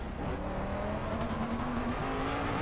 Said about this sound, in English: here you can hear the car going down, scratching the surface